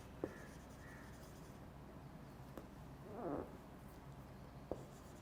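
Faint scratching of writing during an online English vocabulary lecture, with a short rustling stroke near the middle and a few soft taps, set against a quiet room hiss.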